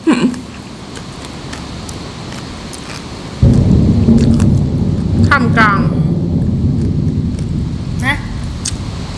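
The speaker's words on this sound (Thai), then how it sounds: "พายุฝน" A sharp crack of thunder, then heavy storm rain pouring down steadily, with a loud rumble rolling through and a few faint chirps.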